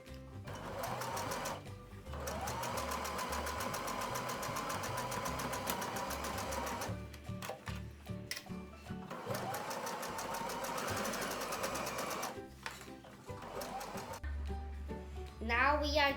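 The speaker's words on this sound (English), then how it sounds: "We are now going to sew a 1 centimeter seam allowance this side" A sewing machine runs a 1 cm seam on a tote bag in several close, continuous stitching runs separated by short pauses and fabric handling, with a clicking sound near the end.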